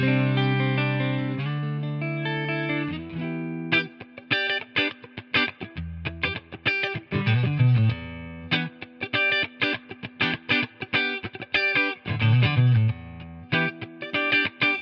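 A distorted electric guitar plays chugging, palm-muted riffs and sustained chords through a Mesa Boogie Mark IIC+ amp simulator with EQ engaged, with a crunchy, compressed tone and rhythmic stop-start phrasing.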